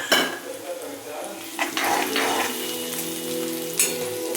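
Dried onion fries in hot oil in a pan for a Gujarati sev tameta curry, with a continuous sizzle and a few stirring scrapes and knocks.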